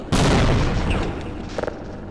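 A grenade goes off in the video game Half-Life as a loud, sudden boom that rolls and decays over about two seconds, with a few short crackling bursts near the end.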